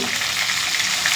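Tempering spices and sesame frying in hot oil for a village-style stuffed brinjal curry, a dense, loud, continuous close crackle and sizzle.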